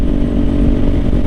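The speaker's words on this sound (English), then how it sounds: "I'm just out here just riding on A1A, just cruising, enjoying the weather, enjoying the bike" A motorcycle cruises along a coastal highway, A1A, its engine droning in a loud, steady rumble with gritty rattle and wind noise, no voices over it.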